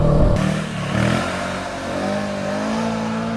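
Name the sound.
motorcycle engine revving during wheelie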